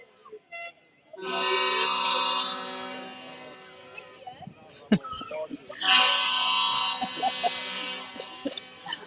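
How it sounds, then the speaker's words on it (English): A deep, droning foghorn blasts twice, each long tone sustained for a few seconds, with people talking and handling noises between the blasts. "Is that the foghorns going on up over there?"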